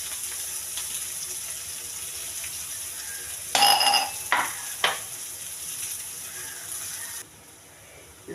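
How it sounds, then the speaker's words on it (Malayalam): Ginger, green chili and onion sauté in a pan with a soft continuous sizzle, broken midway by a few louder bursts of stirring and scraping before settling again; no one speaks. "ഇഞ്ചി, പച്ചമുളക്, സവാള ഇത്ര സാധനങ്ങളിട്ട് വഴറ്റി കൊടുക്കണം നന്നായിട്ട്."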